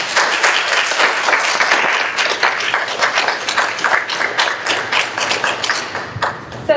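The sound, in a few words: audience applause for the artist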